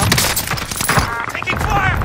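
Dense gunfire rattles through a Call of Duty Warzone match on Rebirth Island, where a Swiss K31 and OTS9 are in play. Rapid overlapping shots fill the whole stretch, with a voice talking over the fighting.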